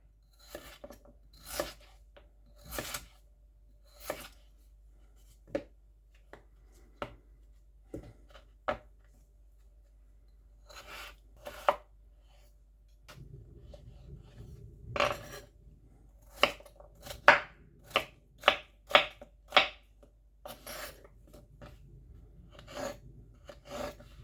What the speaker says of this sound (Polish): Ziemniaki również kroimy w kostkę.